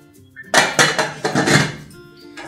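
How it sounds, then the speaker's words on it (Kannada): The metal lid of a pressure cooker clanks shut over a pot of pongal vegetable kootu, a loud run of four or five sharp metallic knocks, then a final clink after a short pause. "ಇವಾಗ ಲಿಡ್ ಕ್ಲೋಸ್ ಮಾಡ್ಕೊಳ್ತೀನಿ."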